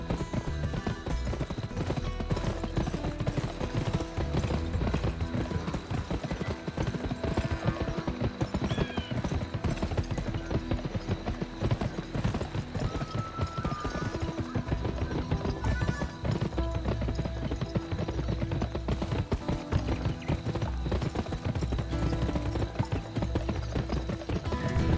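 Several horses gallop in a video game race in the Western game Gun, with a steady, dense clip-clop of hooves and occasional whinnies running loud and continuous throughout.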